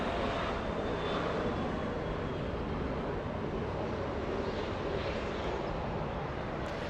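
Boeing 747 jets rumble at LAX airport with a steady, broad engine roar, distant and unbroken over the ground noise and light wind, with no talk.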